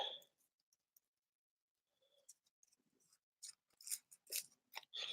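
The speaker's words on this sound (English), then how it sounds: "I'm using scissors that are too big." Scissors that are too big cut through packaging at an unboxing, giving a scattered run of small snips and crinkly rustles that start sparse and quiet, then grow into louder bursts of cutting.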